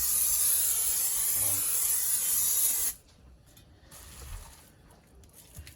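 Cooking spray hisses onto a pan in one continuous, loud, close burst lasting about three seconds, then cuts off, leaving quieter kitchen handling noise.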